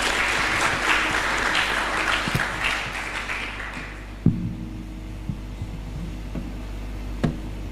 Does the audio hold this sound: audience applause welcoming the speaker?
yes